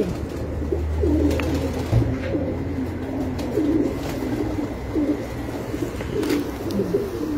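A domestic pigeon, a bird named Teddy numbered 8, coos in low, repeated rolling phrases close by on a rooftop loft, with faint background bird chirps and no talk.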